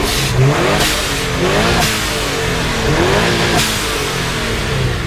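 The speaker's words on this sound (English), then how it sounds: "Nothing better than the sound of that boxy motor." A Subaru boxer engine revs repeatedly, rising and falling in pitch with a throaty boxer burble, loud and close with no talking.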